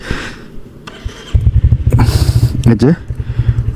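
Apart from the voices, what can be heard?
Royal Enfield motorcycle engine started for morning warm-up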